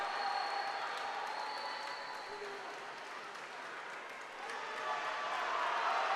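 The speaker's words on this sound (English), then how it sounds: "The crowd coming alive." Dense, steady cheering from a crowd at a college swimming meet in an indoor natatorium, loud and continuous, dipping briefly then swelling again near the end.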